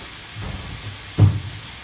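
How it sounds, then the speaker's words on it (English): Vegetables sauté in a pan with vinegar and honey, giving a gentle, steady sizzle that flares into a short, louder hiss midway before settling again. No one speaks. "So now let's saute them"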